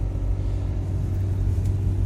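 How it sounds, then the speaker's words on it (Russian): A Renault Duster 1.5 dCi, with a suspected noise around its turbo, accelerates and drives on, producing a loud, steady low engine rumble with road noise throughout and no talking. "Вот автомобиль набирает, автомобиль едет."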